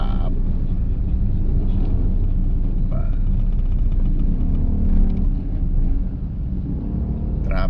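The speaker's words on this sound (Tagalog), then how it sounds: "Traffic" Road traffic near the Technological University of the Philippines in Taguig rumbles loudly and continuously, a dense low engine drone with passing vehicles swelling and easing, and faint voices in the mix.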